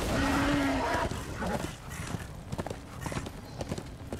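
Horse hooves gallop in Darksiders 2 with a steady, fairly close clip-clop rhythm under game ambience, after a brief tonal sound at the start.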